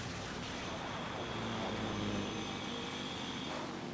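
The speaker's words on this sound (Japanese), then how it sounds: "バイクが砂に沈む前にスピードを上げるんだ" A motorbike engine in the Sand Land video game drones steadily as the bike speeds across sand, a constant loud buzzing hum with no break and no voices over it.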